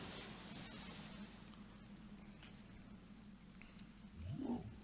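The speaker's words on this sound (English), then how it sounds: "Okay, now it's raining." Rain falling in the video game Divinity: Original Sin, a faint, steady wash of hissing drops with no voices and a slight swell near the end.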